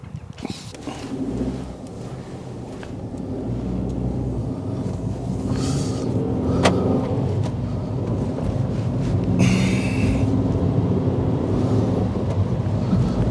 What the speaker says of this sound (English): So you can come with me for a little drive, and we'll do plenty of stopping and starting, pulling away in first